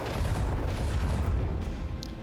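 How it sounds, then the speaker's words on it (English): Macro cannons fire in the Warhammer 40,000: Rogue Trader game during a space battle, a dense roll of low booming blasts that rumbles loudly for a couple of seconds and then tails off. "Macro cannons."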